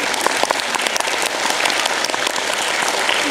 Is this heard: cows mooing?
no